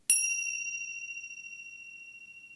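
A single meditation bell chime, struck once and ringing out clear and pure, its tone slowly fading in a quiet room.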